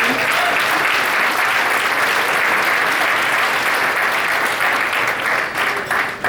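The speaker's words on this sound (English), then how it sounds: "Can we all give Ryan another round of applause?" An audience at a 50th anniversary celebration gives loud, sustained applause. Dense clapping fills the whole stretch and thins slightly at the very end.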